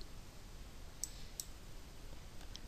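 Two soft, crisp mouse clicks about a third of a second apart, made while submitting an online library interlibrary loan request form, faint and isolated against a quiet room hum with no talking.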